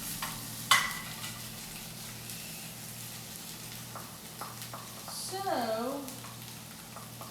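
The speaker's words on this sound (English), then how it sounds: "Is there anything better than sausage and onions just cooking in butter?" Sausage and onions cook in butter in a skillet, giving a steady low sizzle with occasional scraping of stirring; a person speaks briefly at the start, and a bird-like chirp rises near the end.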